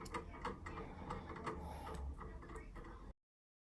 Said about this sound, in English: let me get these two little screws out of here